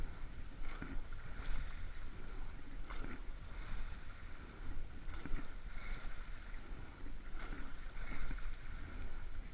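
A rowing crew boat moves across open water at practice, giving a steady swish of strokes at a regular rhythm over wind noise, with no talk.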